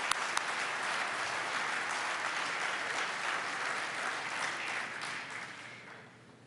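Steady applause from a large banquet crowd at the International Code Council annual event, many hands clapping evenly before the sound gradually tapers off toward the end.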